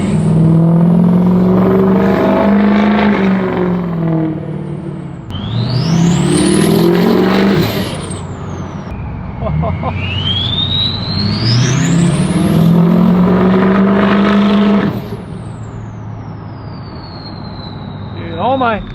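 An old Ford Excursion truck engine works hard under load, a loud close drone that climbs in pitch through several long pulls, drops back between them, and settles into a lower hum at the end.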